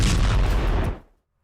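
A single massive blast from an Iranian missile's 1.5-tonne warhead, a loud deep boom that rumbles for about a second before cutting off into silence.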